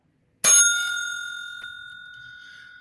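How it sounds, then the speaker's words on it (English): A bell struck once at a high school football homecoming queen celebration, a sharp bright ding that rings on and slowly decays. "get that bell out for homecoming queen for the class of 2026, Miss Tess Green"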